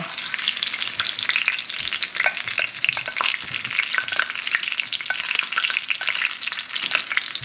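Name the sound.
basting meat with sizzling pan juices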